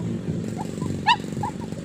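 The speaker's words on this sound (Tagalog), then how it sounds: "Yung aso." A dog gives a single short bark over low background rumble, followed by a few faint whimpering yips, heard at moderate distance.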